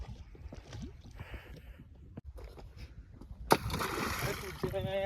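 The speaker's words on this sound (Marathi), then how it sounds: "यांनी आता अंगावर पाणी उडवलं" Muddy water splashes at Manikdoh dam as it is thrown onto people. A sudden loud, broad splash starts about two-thirds of the way through, with voices and outdoor noise around it.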